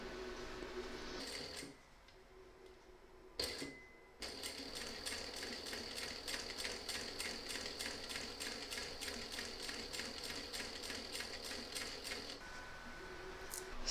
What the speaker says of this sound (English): we're going to stitch a hair's width inside this stitch line here to this side